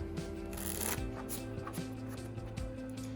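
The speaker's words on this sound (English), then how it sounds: "If we wanted to do a tabletop shuffle," Shark brand playing cards riffle and shuffle on a tabletop in steady repeated bursts, close up, with a constant low hum underneath.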